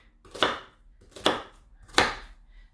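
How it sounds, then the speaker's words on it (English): Three evenly spaced knife chops strike a board as vegetables are diced small, close and crisp with quiet gaps between. "I want these pieces quite small, so I'm dicing them"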